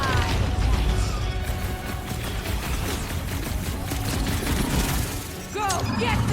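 Sustained gunfire and crashing impacts during combat in Marvel's Guardians of the Galaxy, loud and continuous with booms mixed in, with character voices shouting over the action.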